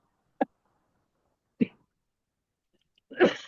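Three separate coughs, each short and close, spaced by silence, with the last one louder and rougher.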